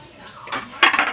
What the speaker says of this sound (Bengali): এবার আমরা এতে একে একে আলুগুলো সব দিয়ে দেবো।